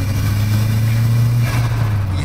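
A Renault 5 GT Turbo engine runs close by with a steady, loud low drone and slight rise in revs, heard alone without talk.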